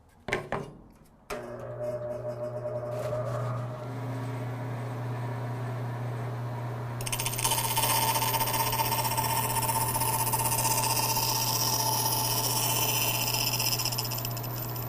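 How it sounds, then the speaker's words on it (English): A bandsaw cuts out a wooden foosball game part, starting with a steady motor hum that turns into a louder, brighter cutting whine about halfway through and holds to the end, with no talking. "We're going to go ahead and cut this out on the bandsaw."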